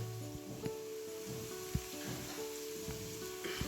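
Chana dal fries with chillies in a pan, giving a soft, steady sizzle with occasional light knocks and stirring sounds, fairly quiet and close, with no speech.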